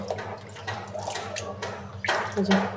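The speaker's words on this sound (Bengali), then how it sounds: "এখন আমি ধুয়ে নিতেছি" Tap water runs into a kitchen sink while food is rinsed, splashing and shifting unevenly for a few seconds, close by and moderately loud.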